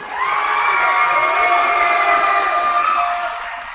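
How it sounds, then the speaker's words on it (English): A crowd at a 12th grade graduation ceremony cheers loudly for the athletes, a sustained chorus of high shouts and whoops holding steady for several seconds before tapering off. "Ladies and gentlemen, a nice round of applause for our athletes"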